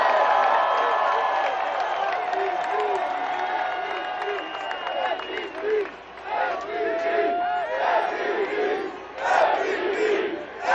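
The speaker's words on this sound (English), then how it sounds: "let's give it up for Nikola Jokic and his family" A large crowd at the Denver Nuggets 2023 NBA championship parade roars and cheers loudly, with whoops and shouts rising and falling in waves, voices mixed into the din.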